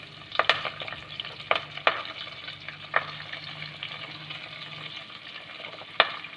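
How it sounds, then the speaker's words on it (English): Chopped onion frying with fresh curry leaves and spices in a pot, a soft steady sizzle broken by several sharp scraping knocks of stirring, close up and without talk. "So after adding all these things I'm going to add this chopped onion."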